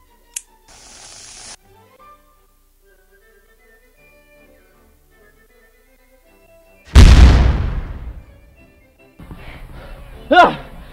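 A single loud explosion bursts out mid-clip, a sharp boom trailing into a decaying rumble, set among quieter sound effects and tones before and after.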